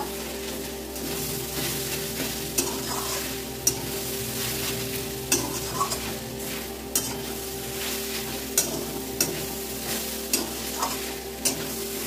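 Carrot halwa being stirred in a pan, with steady sizzling and frying under repeated scraping strokes of a spoon against the pan, close and continuous without talk.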